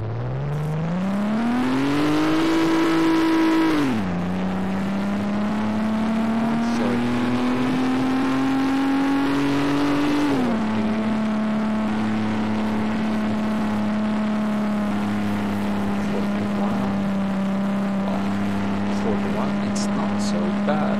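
A very small engine of an ACF car in Garry's Mod revs up, drops back, then settles into a loud, steady buzzing drone, rising and falling with the throttle.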